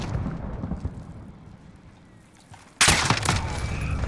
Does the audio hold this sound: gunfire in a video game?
yes